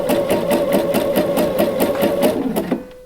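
A sewing machine zigzag-stitching lace camisole fabric runs in a fast, steady, close-up chatter of regular needle strokes, stopping abruptly near the end.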